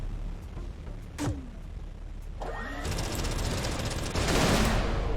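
Rapid weapon fire from a spaceship in the space game Everspace 2, dense crackling bursts with sweeping whooshes, building into sustained loud volleys near the end.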